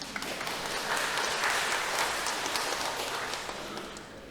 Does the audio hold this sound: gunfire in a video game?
no